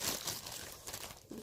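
Quiet crinkling and crumpling of a Tide detergent packet being torn open for slime-making, a short burst of rustling plastic close to the microphone.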